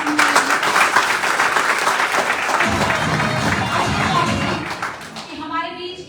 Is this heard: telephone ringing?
no